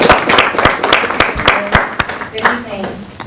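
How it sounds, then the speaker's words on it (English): A round of applause for a speaker introduced at an evening lecture on liberalism, with sharp claps and a crowd clapping unevenly up close, voices murmuring through it. "So let's give Ms. Jaleesa Russell a round of applause."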